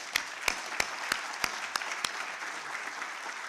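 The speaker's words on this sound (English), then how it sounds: "give the speakers and our two presidents a good round of applause" A few scattered hand claps, spaced and uneven, from a conference audience at a vaccine-production initiative launch, fading into a quiet room after about two seconds.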